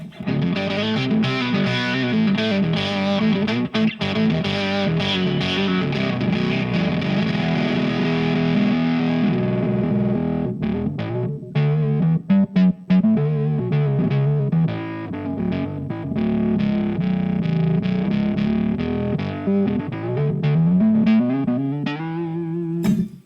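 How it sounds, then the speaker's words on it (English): Electric guitar through a Line 6 HX octaver effect, thick distorted tone with a low octave doubling the notes, sustained riffs and chords played loud and continuous without talking. "That's a good sounding Octaver."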